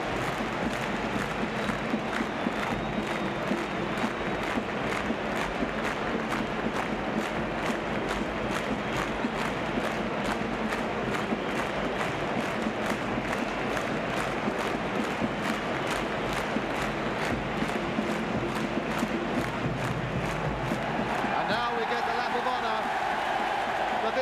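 A Swindon Town football crowd in a stadium cheering and applauding steadily throughout, a dense, loud roar that carries on under a commentator's voice.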